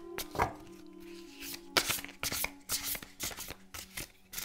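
A deck of playing cards is shuffled and dealt out into five piles, giving a near run of crisp riffling bursts and quick slaps with short pauses between them.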